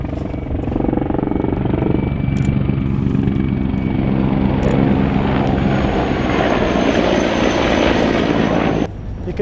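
A helicopter flies overhead during an attack on Donetsk Airport, dropping flares; its loud engine drones steadily with a churning rotor throb, staying close and constant throughout.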